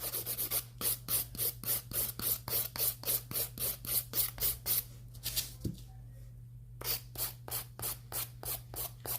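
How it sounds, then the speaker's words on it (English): Hand filing of pastel acrylic nails: rapid rhythmic rasping strokes, about two per second, close and crisp, with a brief pause near the middle before the strokes resume. "I personally am starting to hand file more now."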